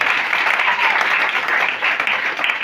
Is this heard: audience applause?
yes